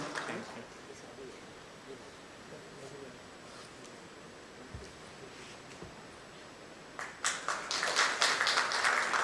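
Audience applause at a memento presentation during a leadership summit panel swells near the end into dense, loud clapping after a stretch of murmuring crowd noise.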